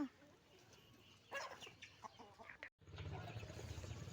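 Domestic chickens cluck and squawk around a coop, a few sharp calls over a steady low rustle and bustle of the birds, fairly close, with a brief dropout before the flock noise swells again.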